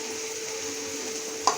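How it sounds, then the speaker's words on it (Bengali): Whole spices (dried red chilli, cardamom, peppercorns, cloves and a cinnamon stick) tempering in the hot oil left from frying prawns for a prawn malai curry: a steady close sizzle with one brief sharper crackle near the end. "আমরা যে চিংড়ি মাছটা ভেজেছিলাম ওই তেলে ফোড়ন দিয়েছি।"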